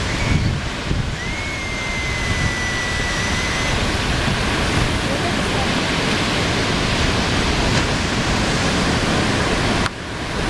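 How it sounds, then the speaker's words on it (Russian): Sea waves at Phuket make a continuous, loud wash of surf, a broad steady roar close by, with a brief faint whistle-like tone early on and no speech. "Там уже спокойнее волны"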